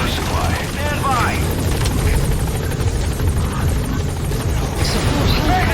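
The Pequod support helicopter arriving at the landing zone in Metal Gear Solid V: The Phantom Pain, a loud, close rotor roar with a rumbling low end and steady chop, with brief whooshing sweeps near the start.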